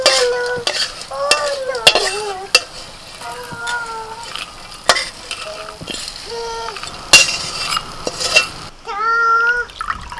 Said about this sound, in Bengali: একদম হালকা আঁচে আস্তে আস্তে করে ভাজতে হবে